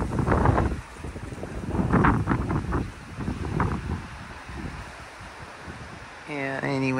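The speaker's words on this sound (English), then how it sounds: "Analyzing the wind sounds here." Strong gusting wind in Henderson, Nevada, rushing and buffeting the microphone in uneven surges, with a voice speaking over it and a brief tonal sound at the end.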